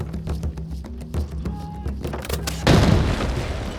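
A sudden loud grenade blast in the game Arena Breakout erupts after a stretch of quieter game sounds, its rumbling noise lingering to the end.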